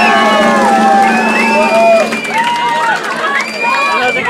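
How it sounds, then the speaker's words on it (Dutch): An award-speech audience cheers and whoops loudly, with high shouted voices and children's calls in a dense crowd roar that runs the whole stretch, easing slightly after the midpoint. "Aagje, applaus!"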